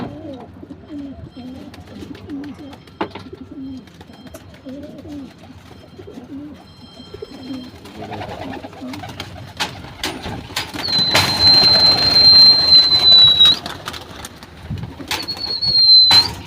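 Domestic pigeons kept as a household hobby coo in low, rolling bursts, with a steadier hiss of activity and wing movement building toward the end.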